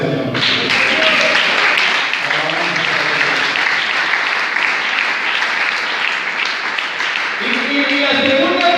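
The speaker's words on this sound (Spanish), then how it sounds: "Denle un aplauso al Señor." A church congregation applauds steadily for several seconds. A voice speaks briefly before the clapping and again as it dies away.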